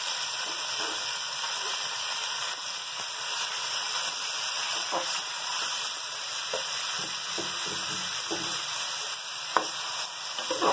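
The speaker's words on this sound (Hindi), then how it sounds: "नमक डालने के बाद हम इसको 5 मिनट तक भूनेंगे" A kilo of goat mutton with two spoons of salt frying in a pot, a steady close sizzle and hiss throughout with occasional soft stirring scrapes and a single sharper clink.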